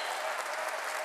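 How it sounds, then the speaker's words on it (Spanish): A concert audience applauding a guitarist during a live show, a brief steady wash of clapping at moderate level with no voices heard. "fuerte el aplauso para él"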